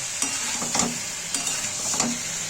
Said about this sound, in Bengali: দেখো কষতে থাকছি।